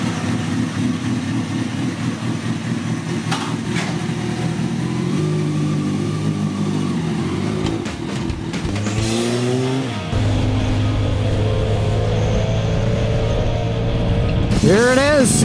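A Kawasaki ZX-6R 636 motorcycle engine idles and then revs in sharp rising and falling bursts, fairly close, with a brief pause and occasional mechanical clicks.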